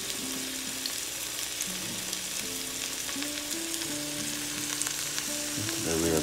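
Steamed vegetarian pieces fry in a pan in a home kitchen, giving a strong, steady sizzle and crackle throughout, with soft background tones and no talk.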